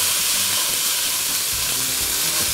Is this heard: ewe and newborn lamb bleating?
no